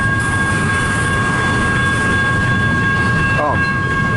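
A CN intermodal double-stack freight train rolls past up close, a steady loud rumble of wheels and cars with a brief squeal near the end, with no talk over it.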